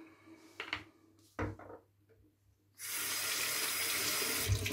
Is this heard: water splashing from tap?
yes